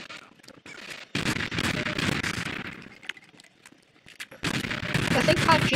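Bursts of rapid gunfire erupt in Garry's Mod, loud automatic volleys broken by short quiet gaps, with a few isolated shots between the main bursts.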